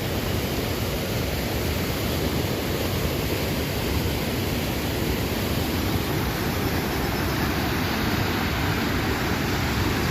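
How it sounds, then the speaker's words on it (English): Loud flowing water rushes without pause as a thick, even roar that fills the whole stretch, close by with no talk. "because that water is so loud."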